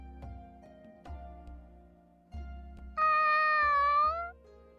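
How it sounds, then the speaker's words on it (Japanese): A cat in the Sword Art Online game meows once, a clear, loud, drawn-out meow set over quiet background music with soft percussive beats. "猫。"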